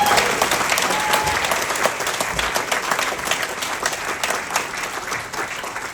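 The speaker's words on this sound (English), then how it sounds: "Clap for them, please." A crowd at a scholars' day celebration applauds steadily, dense clapping that eases slightly toward the end, with no voices on top.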